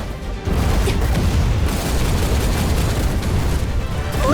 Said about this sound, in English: They're shooting this carriage.